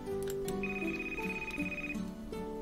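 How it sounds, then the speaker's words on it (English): A phone rings inside the PC video game Love Bites, playing a bright, steady electronic melody of overlapping tones that runs through the whole moment with no talking. "your phone rings"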